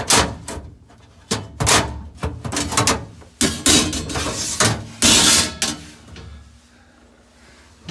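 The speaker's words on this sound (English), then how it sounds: "Pull all 4 screens out." Filter screens being pulled out of a Fagor dishwasher: a series of close, sharp plastic clacks and rattling knocks in irregular bursts, with quiet gaps between.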